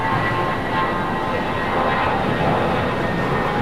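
Jet airliner taking off from runway 25 right at LAX, a loud continuous engine roar with steady broadband rumble and whine, holding level throughout without voices.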